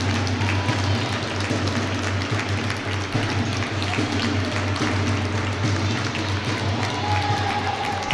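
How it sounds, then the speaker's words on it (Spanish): Applause for a girls' under-12 basketball team at a regional semifinal fills an indoor court, steady clapping from the crowd under a constant low hum. "Y un aplauso a las jugadoras del Borbolla."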